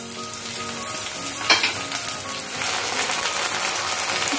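Ginger paste frying in hot oil for masala brinjal, a steady close sizzle with a brief louder crackle as it is stirred, no voices.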